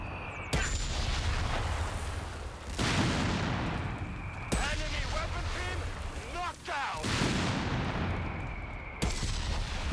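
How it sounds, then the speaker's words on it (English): Semovente barrage artillery in a video game fires a string of heavy, booming explosions, several loud blasts following one another over a steady rumbling background. "It's got an unusual explosion sound to it"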